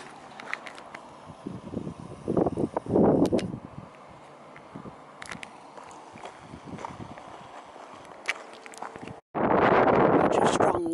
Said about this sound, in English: Such a strong wind has blown up out of nowhere.